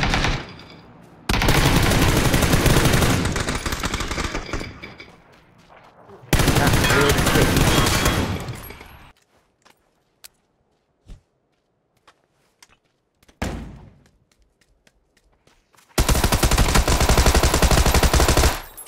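Gunfire in the video game PUBG comes in several long, loud automatic bursts separated by quieter stretches with a few isolated single shots and faint footsteps.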